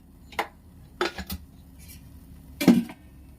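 A metal spoon scrapes and clanks against a pan while gram flour laddu mixture with oil is stirred, giving a few separate knocks and scraping strokes over quiet background.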